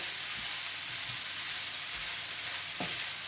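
Zucchini and onion sizzle steadily as they are stirred and sautéed in a pan without added water, a continuous frying hiss broken by a few soft scrapes of the spoon, close and alone.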